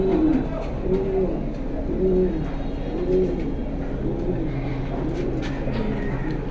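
Soft, throaty pigeon coos repeat in a steady rhythm, close by, over a constant low background hum.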